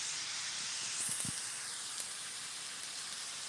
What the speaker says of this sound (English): I love the sizzle.